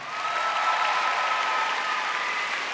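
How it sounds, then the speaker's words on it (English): Sustained applause and cheering from a large indoor crowd at the Crufts 2008 international agility final, steady and dense for the whole stretch as a team is welcomed into the arena. "please give a great big cheer for the US of A"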